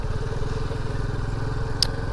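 A motorcycle rides slowly over a broken, waterlogged road in Madhuban Bapudham, Ghaziabad, its engine putting out a steady low chugging pulse throughout, close and loud, with one brief high clatter near the end.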